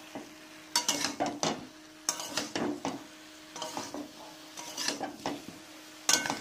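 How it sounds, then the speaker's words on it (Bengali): A turmeric-spiced masala for a cauliflower roast is stirred and scraped in a pan, with repeated bursts of spatula scraping over a soft sizzle and short pauses between strokes. "আবারও মশলাটাকে কষাবো"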